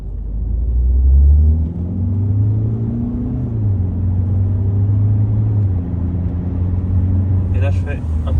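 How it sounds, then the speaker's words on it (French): Peugeot 3008 accelerating hard in sport mode along a short straight, a steady, close engine drone and rumble heard from inside the cabin, with someone talking over it. "J'ai une petite ligne droite qui va me permettre de pouvoir accélérer un peu plus fort"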